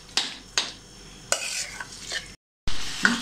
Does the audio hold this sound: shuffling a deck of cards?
no